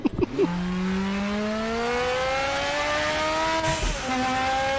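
A Ford Capri engine in a VR racing video game revs up and accelerates in a long, rising whine with a brief gear-change dip near the end. The engine is loud and continuous, with no talk over it.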